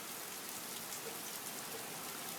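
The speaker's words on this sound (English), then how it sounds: "it's currently raining right now." Steady rain falls over a flooded backyard as an even, dense hiss of drops hitting water and ground. It is moderately faint and continuous, with no voices.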